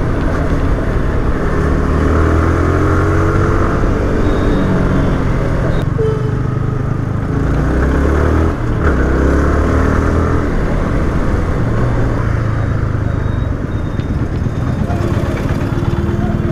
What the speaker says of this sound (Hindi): बाप रे बाप भाई, क्या खतरनाक जैम है भाई आज।